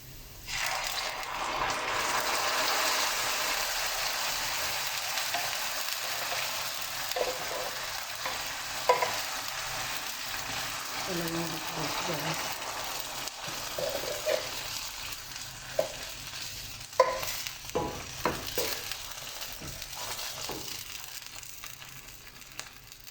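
Onion and baked beans fry and get stirred in a pan, a steady close sizzle with scraping and clinking spoon strokes rising through the latter half, no talk.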